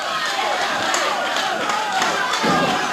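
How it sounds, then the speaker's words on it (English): A 1979 wrestling crowd at a tag match with Kevin Von Erich chants and yells in a dense, loud roar, with a commentator's voice running over it. "The crowd chanting, yelling, trying to give Kevin Von Erich whatever help they can vocally."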